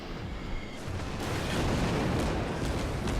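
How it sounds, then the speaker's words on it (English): Incoming naval gunfire striking a warship in World of Warships, a dense continuous rumble of booms and impacts that swells and stays loud throughout. "I'm taking a lot of fire from the front"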